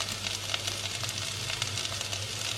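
Onions and curry leaves sizzle in a hot pressure cooker, a dense, even frying hiss with light crackles, close and continuous with no voices.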